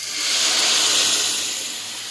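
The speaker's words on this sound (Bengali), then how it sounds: "দেখো আমি ডালটা এবার ঢেলে দিলাম" Mung dal poured into a hot pan of fried fish head and spices sets off a loud, broad hissing rush that swells and then slowly fades, with no voices.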